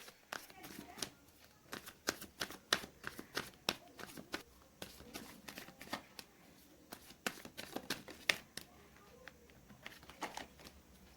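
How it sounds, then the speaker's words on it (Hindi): Tarot cards drawn and snapped out of a deck during a reading, a string of crisp flicks and slaps in irregular bursts, close and fairly quiet, with no talk over them. "एक और दो कार्ड्स और यहाँ से निकालना चाहूँगी मैं"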